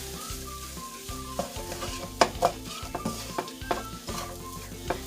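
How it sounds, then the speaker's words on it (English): A spoon stirs a vegan cheezburger helper mixture with parsley, pepper, frozen peppers and onions in a pan. It sizzles softly under repeated scrapes and a few sharper clanks of the utensil against the pan. "about a teaspoon of parsley, and a pinch of pepper. I'll just mix this all up."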